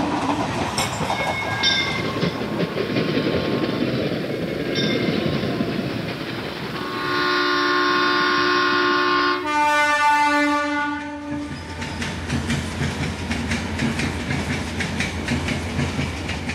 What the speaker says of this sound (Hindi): घुमावदार मोड़ पर पटरियां बदलती ट्रेन जैसे ही नई दिल्ली रेलवे स्टेशन में दाखिल होने लगती है